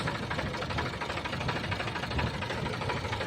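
A New Holland 4710 tractor's 50-horsepower three-cylinder diesel engine runs steadily nearby with a low, knocking rumble, continuous throughout with no talk.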